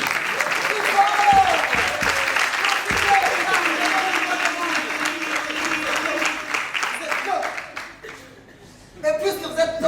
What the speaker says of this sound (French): Applaudissez pour ladies and gentlemen.